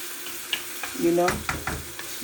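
Vegetable stew with chicken breast cooked dry without water, frying and being stirred in a pot: a steady sizzle with a few sharp scraping stirs and clinks close by, no voices.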